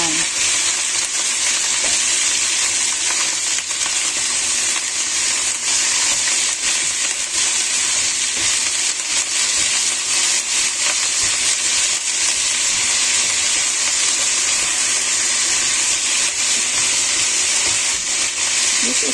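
Meat with vegetables added stir-fries in a pan as a loud, continuous, close sizzle and hiss, with faint scraping from stirring throughout and no speech.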